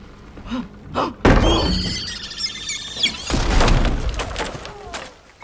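Plump, round birds squeal loudly in the video game Split Fiction, shrill wavering cries layered over thuds and a rising clatter of game effects, with brief bits of voice nearby.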